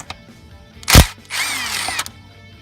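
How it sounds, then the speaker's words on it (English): An impact wrench with a 13mm deep well socket removes a nut during Dodge transmission removal, a loud sharp burst of hammering followed by a longer whirring spin-down, close up. "I'm going to personally use the 13mm deep well socket with the impact."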